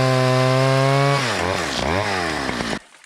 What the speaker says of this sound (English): I've got the chainsaw.